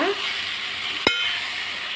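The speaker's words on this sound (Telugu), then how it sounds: "వేగిపోయిందండి గోంగూర" Leaves frying in a pan give a soft, even sizzle throughout, broken once by a single sharp clink of a utensil.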